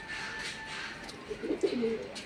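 Prized pigeons give a few soft, throaty coos in the second half, fairly quiet against a low background hum.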